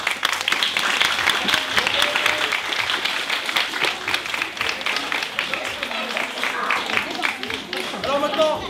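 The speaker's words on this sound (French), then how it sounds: "On peut l'applaudir bien fort." Audience applause at a birthday-party magic show, a dense, steady wash of clapping filling the room for the whole stretch, with scattered voices and cheers mixed in.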